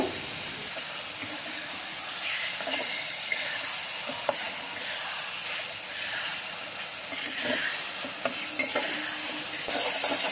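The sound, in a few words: chopped tomatoes frying and stirred with spice paste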